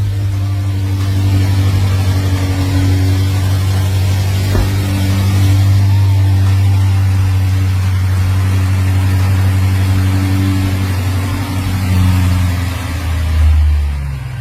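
Rebuilt BMW F90 M5 V8 with forged pistons and rods, running with a deep steady rumble and swelling into revs, loud and close with no voices.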